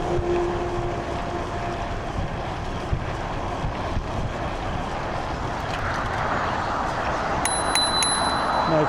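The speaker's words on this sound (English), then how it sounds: "No chance of hearing my bell in this bin." A bicycle bell rings a few quick times near the end, sharp and metallic above a steady roar of road and wind noise during a road ride.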